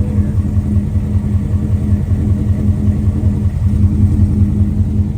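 A warm Ford Mustang S550 with TSP longtube headers, header dumped, idles in a steady, loud, close rumble with a continuous low throb and no talking.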